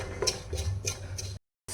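Cumin seeds dry roasting in a pan without oil, giving faint scattered ticks and light scraping clinks, then a brief silence before the sound resumes.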